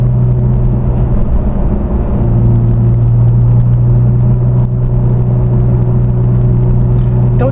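A Porsche Boxster S engine gives a steady, loud, low droning rumble while cruising, with constant road and cabin noise and no clear revving.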